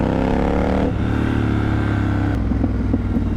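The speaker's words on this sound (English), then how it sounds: "Okay, blips fairly well" A Triumph Scrambler 1200 motorcycle engine settles from a higher rev back to a loud, close idle, with its deep exhaust burble pulsing steadily and a faint quick blip later on.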